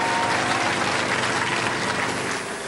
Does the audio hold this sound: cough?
no